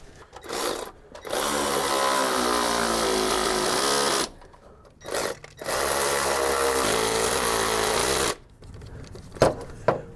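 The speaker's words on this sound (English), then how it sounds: "So now I'm gonna go get the ratchet and finish that." A ratchet works on the crankshaft bolt of a Jeep XJ during a harmonic balancer and crank seal job, producing two long stretches of rapid clicking with short pauses, then a few scattered knocks near the end.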